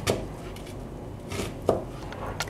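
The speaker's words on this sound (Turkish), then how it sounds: "Üzerine 2 adet soğanı yemeklik doğruyorum." A knife chops onions on a cutting board for a Turkish stuffed-pepper dish, giving a few distinct, irregular close taps over faint background noise.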